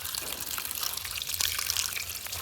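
Tap water runs steadily over pumpkin pieces being rinsed clean after a lime-water soak, a continuous close splashing trickle with no talk.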